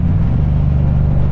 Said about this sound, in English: no talking, just the pure sound of the bike and all that good stuff